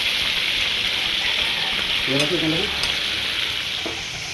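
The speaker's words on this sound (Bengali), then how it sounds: "চিংড়ি মাছগুলো দেখো বন্ধুরা হালকা করে ভেজে নিয়েছে মা" Prawns lightly frying in hot oil, a steady close sizzle and crackle filling the whole stretch without pause, with a faint brief voice murmur partway through.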